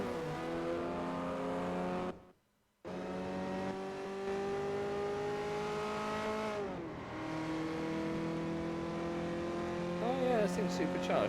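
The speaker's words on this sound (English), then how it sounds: "You can actually hear the supercharger whine." A supercharged race car in Forza Motorsport 4 holds a steady high engine whine with layered tones, shifting pitch as it accelerates and dropping out briefly once, while someone talks over it.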